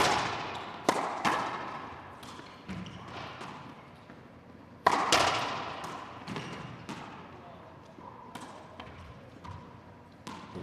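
Racquetball singles semifinal rally in an indoor court: sharp, loud ball cracks off racquet and walls, starting with a hard drive serve, then several more hits at irregular intervals with echoing decay and faint crowd noise between.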